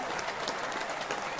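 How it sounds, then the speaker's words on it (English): A studio audience applauds in a steady, dense wash of clapping that runs through the whole short moment, loud and continuous with no voices on top. "There's the applause."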